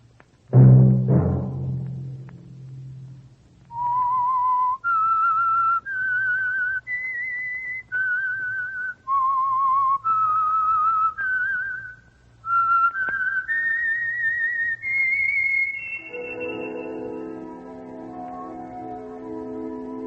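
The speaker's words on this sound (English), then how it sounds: "Let that whistle be your signal for the Signal Oil program, The Whistler" A single person whistles the signature theme of The Whistler radio program, a clear, near, unaccompanied melody of held and sliding notes over a low hum, following a brief thump at the start.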